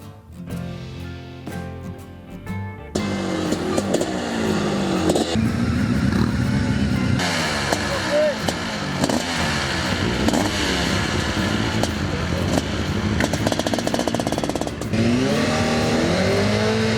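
A 1991 Honda CBR 600 sport motorcycle at a hill-climb race starts quietly, then roars loudly and revs hard, its engine note rising and falling through gear changes for a sustained, close run.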